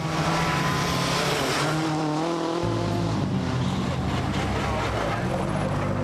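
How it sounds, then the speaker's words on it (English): A Peugeot 307 WRC rally car with failing differential pressure drives hard on dark, slippery, rutted roads in Rally Japan 2005, its engine loud and close with a shifting pitch and rasping gear changes filling the whole stretch. "Marcus Grönholm's 307 has lost pressure in the differentials"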